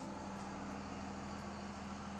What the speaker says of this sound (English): That truck is loud.